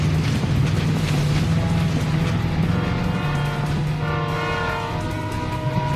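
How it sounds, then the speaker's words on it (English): A train rushes past in a video game, a loud continuous rumble with a sustained horn tone sounding through it, close and alone without voices. "Train! I see it."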